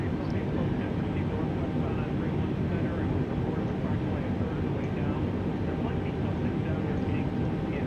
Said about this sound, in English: Our engines are started up.